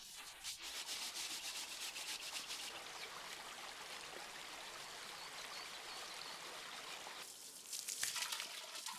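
Sand is washed over and over in water like rice, giving a faint, continuous wet rubbing and trickling, with a short swell of scrubbing near the end and no voices.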